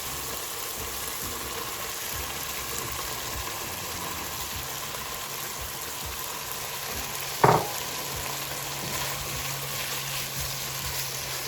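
Chopped vegetables hit hot masala in a pan for dal dhokla, giving a steady, even sizzle throughout with one brief clatter partway through; no one speaks.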